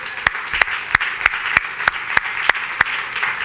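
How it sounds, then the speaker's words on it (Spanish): Congregation at a worship service claps steadily, a soft bed of applause punctuated by regular, evenly spaced loud claps in a brisk rhythm, near and without speech. "Dale un aplauso al Señor."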